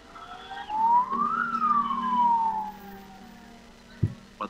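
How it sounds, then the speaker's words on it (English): Ambulance siren wailing in one slow rising and falling sweep, moderately loud and somewhat distant, followed by a few sharp knocks and quiet background noise. "But ambulances continue to rush COVID victims to the Martini Hospital."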